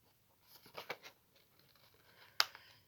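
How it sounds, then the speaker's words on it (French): Long-bladed scissors cutting a paper napkin image for a decoupage craft, heard as a few soft, quick crisp snips close by, with one sharper snip near the end, in a quiet room. "je préfère travailler avec des ciseaux dont les lames sont longues"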